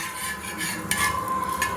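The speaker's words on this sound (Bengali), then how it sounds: "এক পিঠ ভাজা হয়ে গেছে, আরেক পিঠ একটু উল্টে দিচ্ছি ভাজার জন্য" Palm-pulp pitha cake frying in hot oil while a spatula lifts and turns it, a continuous close sizzle with a brief metallic scrape.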